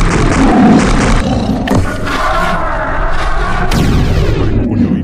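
A loud, continuous roaring growl from a tiger in a video game, thick and sustained across the clip with rumbling game effects and no speech.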